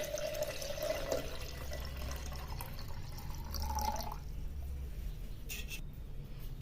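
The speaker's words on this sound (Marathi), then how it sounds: "याच्यामध्ये कंठापर्यंत किंवा गळ्यापर्यंत पाणी भरून घ्यायचं आहे" Water poured into a copper kalash pot up to its neck: a soft, continuous trickle and gurgle, fairly quiet and close, with a slight rising fill tone early on before tapering off.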